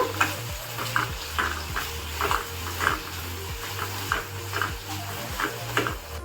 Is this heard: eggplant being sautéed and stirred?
yes